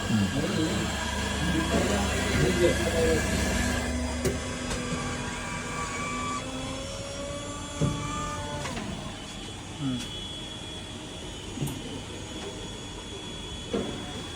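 A digital coffee machine dispensing coffee with milk, heard as a steady mechanical whirring hum that cuts off partway, leaving faint clicks and a soft hiss in a quiet room.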